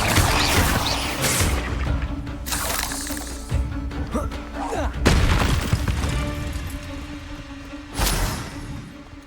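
Spells such as Expelliarmus and Incendio are cast in the Hogwarts Legacy video game, bursting out as loud magical blasts and crackling impacts over a low droning background while a voice calls out the spell names.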